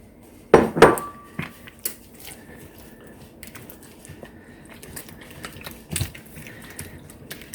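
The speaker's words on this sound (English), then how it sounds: "So just dump all the 5 eggs in." Five eggs are dumped into a mixing bowl: two sharp knocks close together at the start, then scattered lighter clinks and a wet shuffle, close by and quiet, with no voices.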